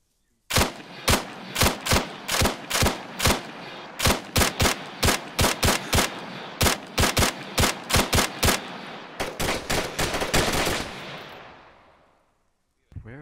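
Gunfire in ArmA 3 co-op combat: a long run of loud, sharp single shots fired in quick rhythmic succession, about twenty-five cracks, ending with a burst of rapid fire that trails off into echo, then one last shot.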